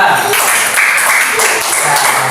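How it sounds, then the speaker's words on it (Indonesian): A classroom of students applauds for a presenting group, giving a brief, loud, dense clatter of clapping with possible voices mixed in. "tepuk tangan untuk kelompok 2"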